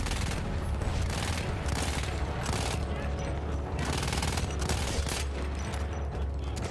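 Loud, continuous gunfire from the video game Battlefield 1, with rapid bursts of automatic shots and heavy impacts running through the whole stretch.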